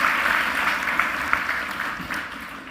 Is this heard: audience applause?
yes